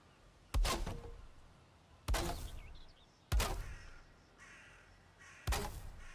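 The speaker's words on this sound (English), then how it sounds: "That crow and that seagull, they are competing at the moment in who can make the most noise." Four loud, harsh caws from a crow in the video game Valheim, spaced unevenly over a few seconds against soft ambient game sound, with no one talking.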